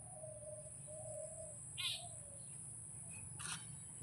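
At dusk, as the sun turns red, birds head back to their nests with a few faint, distant chirps and calls. A steady high-pitched whine and a low ambient rumble sit underneath the whole time.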